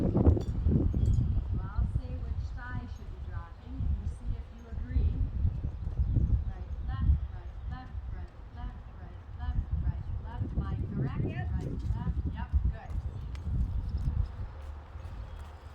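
A horse trotting in a riding lesson, with rhythmic clip-clop hoofbeats on the ground throughout while an instructor talks steadily over them.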